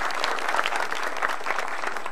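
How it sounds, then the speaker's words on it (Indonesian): A live audience at a stand-up comedy show applauds, with dense, steady clapping that fills the short stretch without letting up. "tepuk tangan."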